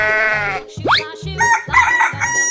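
A rooster crows loudly and close up, a drawn-out call followed by clucking farmyard noises, with no talking.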